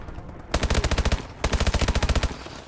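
A small automatic gun in Call of Duty: Advanced Warfare fires two rapid bursts of about eight or nine shots each, loud and close, separated by a short pause.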